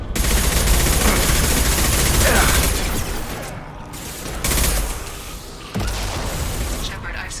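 Concussive shot and gunfire in the video game Mass Effect, sounding as a dense, continuous barrage of loud shots and booms with a few sharper blasts partway through, and voices mixed into the battle.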